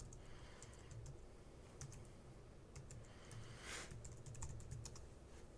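Computer keyboard keys tapped in quick irregular bursts while entering an administrator username and password on a Mac running OS X, close and moderately faint over a low steady room hum, with no talking.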